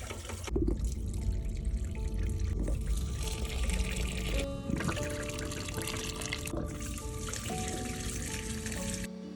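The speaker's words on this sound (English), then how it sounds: "I need to water some plants" Water pours and splashes steadily while house plants are watered, a close, continuous trickle with shifting gurgles and brief pauses in the flow, heard with no talking.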